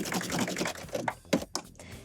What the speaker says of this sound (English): continue serging on the elastic, and then serge off